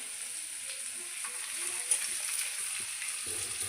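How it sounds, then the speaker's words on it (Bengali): Food fries in a little oil in a pan over a gas burner turned up to a high flame. A steady, bright sizzle carries on throughout, with light stirring scrapes near the end and no talk. "সেটা একটু লাল লাল করে ভাজা হোক। গ্যাসটাকে আমি হাই ফ্লেমে বাড়িয়ে দিলাম।"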